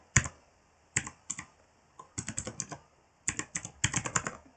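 Fingers typing on a computer keyboard in quick bursts of clicking keystrokes separated by short pauses, close and crisp with no voice over them.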